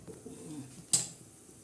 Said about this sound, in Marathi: आता त्याच्यावर आपण झाकण ठेवणार आहे